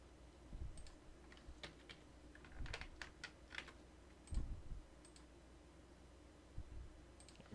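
Keys clack in short bursts of typing while values are entered into AutoCAD 2024 for a kitchen bowl drawing, close and fairly quiet, with brief pauses between clusters of keystrokes.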